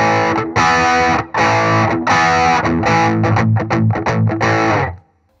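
Electric guitar through a Redbeard Effects Angry Rhubarb overdrive pedal pushed into distortion, loud and gritty chords played in bursts then quicker choppy stabs before a sudden stop.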